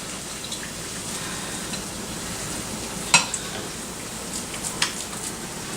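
Cornmeal patty laid into hot grease, giving a steady soft sizzle and crackle with a few sharper pops, moderately close and without talk.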